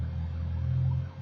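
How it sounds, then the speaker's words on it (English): Emergency vehicle siren in New York, a steady low droning wail heard faintly and continuously in the background throughout, with no voices. "it's like sirens in the background"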